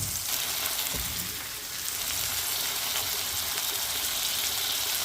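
Kalmi greens sizzle in hot oil with dried African chili, a loud, dense, steady frying hiss that eases briefly, then swells again as the greens hit the pan. There is no talking.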